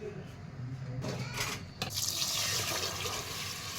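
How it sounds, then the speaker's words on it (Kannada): Water pours into a vessel holding urad dal, idli rice and ration rice, set to soak for soft idli batter; a steady rushing splash swells after a softer start and keeps going. "ಎಲ್ಲವನ್ನು ಹಾಕ್ಕೊಂಡು ನೀರು ಹಾಕಿ ನೆನೆಸಿಡಿ."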